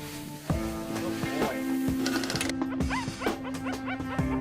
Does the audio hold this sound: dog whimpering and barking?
yes